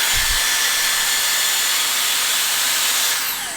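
A Dyson Airstrait hair straightener blowing steady, loud hissing airflow while self-cleaning, a broad constant rush that shifts in pitch near the end as it changes speed.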